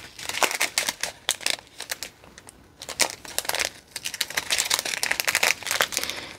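Plastic kit packaging crinkles and rustles loudly and close up as small bags are rummaged through, in dense irregular bursts with a brief quiet gap partway through.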